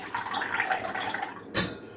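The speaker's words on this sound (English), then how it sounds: "So first what I am going to do is I am going to drain only the water." Salty water is poured off tender mango pickle for a Tamil Nadu style vadu mangai, a steady close splash and trickle that ends with a brief louder splash, with no speech.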